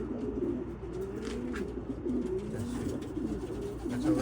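White racing pigeons coo in a steady, continuous low murmur, several birds close by and overlapping, with no voices.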